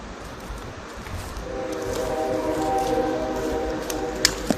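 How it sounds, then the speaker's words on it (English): A train rumbles past at a steady distance with a low, continuous roar and a faint tonal whine, ending with a couple of sharp clanks. "Train's always on time"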